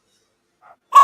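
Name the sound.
dog barking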